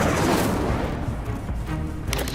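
The Incendio fire spell is cast in Hogwarts Legacy, a loud, dense, whooshing blast of flame that roars continuously and fades slightly toward the end.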